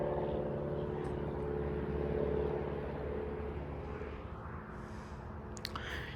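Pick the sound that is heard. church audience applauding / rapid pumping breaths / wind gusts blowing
wind gusts blowing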